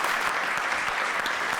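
A studio audience claps in steady, dense applause that runs without a break at moderate volume.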